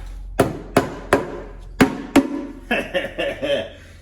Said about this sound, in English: Can't beat a rubber hammer.